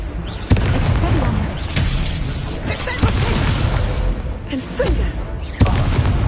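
A fire spell is cast in the video game Hogwarts Legacy, giving several sharp booming blasts and crackles spread through the clip. A voice speaks over them.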